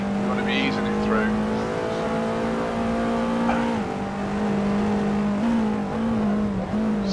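An Alfa Romeo Giulietta race car powers around the Knockhill circuit, its engine droning steadily and climbing through a few audible gear changes as the throttle comes back on, with someone talking over it.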